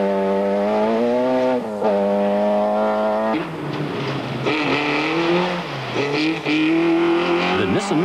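A Nissan rally car on a 1995 Tour De Total stage revs hard and shifts repeatedly, engine pitch climbing and dropping with gear changes, loud and close, with rougher, choppier driving in the second half.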